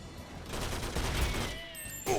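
Rapid burst of automatic gunfire from an MG42 machine gun in a first-person shooter video game, loud and dense for about two seconds, ending with a sharp sound effect.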